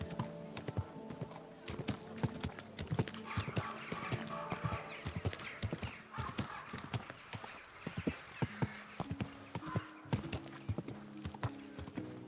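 Steady clip-clop of horse hooves at a quick gait in the video game Kingdom Come: Deliverance II, rhythmic and close, with a few brief whinny-like calls mixed in.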